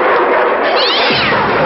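A cat meows loudly and close up in a long, drawn-out wavering call, heard alone with nothing else around it.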